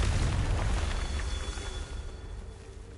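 A Confringo blast curse detonating in Hogwarts Legacy on PS5, a single deep rumbling boom that decays over about three seconds.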